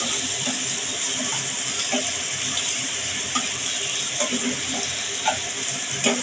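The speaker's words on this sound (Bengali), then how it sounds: "দেখুন আমার পেঁয়াজগুলো কিন্তু ভাজা ভাজা হয়ে গেছে।" Onions frying in oil in a pan while boal fish curry is being cooked, giving a steady hiss with scattered small crackles and pops throughout, close by and with no talking.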